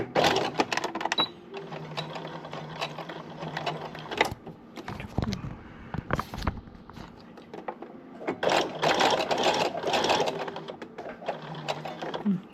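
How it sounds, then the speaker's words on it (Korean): A sewing machine runs in bursts, stitching a hanbok coat tie (goreum), with short pauses and handling noise between the runs of close, steady mechanical whirring. "재봉합니다."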